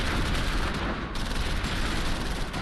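Dense, sustained gunfire and explosions in a Close Combat V World War II battle at Le Varimesmil and Chateau de Riviere, a continuous loud roar of overlapping shots with no pauses.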